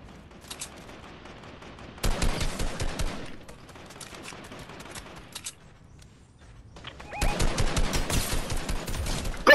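Gunfire in a Fortnite battle royale match, with two loud bursts of sharp shots separated by quieter mechanical clicks and shuffling.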